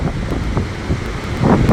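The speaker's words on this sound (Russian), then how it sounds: "Просто шторм." Storm wind and surf on the Black Sea at Sochi, gusts buffeting the microphone in heavy low rumbling bursts, with a loud surge toward the end.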